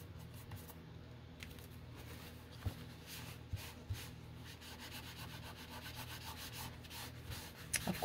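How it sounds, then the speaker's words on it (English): Paper being rubbed to remove a mark on a junk journal ephemera sheet: a steady, soft, close scratchy rubbing that runs continuously with a few faint taps and no talk. "we gotta see if we can rub it off"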